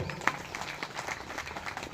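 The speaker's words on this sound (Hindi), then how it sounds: "जोरदार ताली बजाओ" Audience applause rings out during a stage show by a ghughri folk singer: a dense, steady patter of many hands clapping, fairly close, with a sharper burst near the start.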